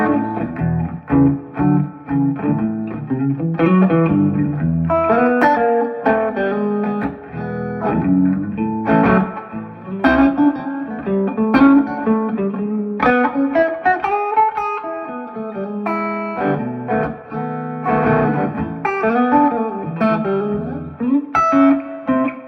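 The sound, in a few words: electric guitar with reverb and distortion effects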